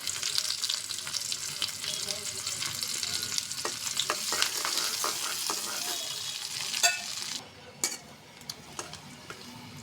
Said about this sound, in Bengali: পেঁয়াজটা ভেজে নিছি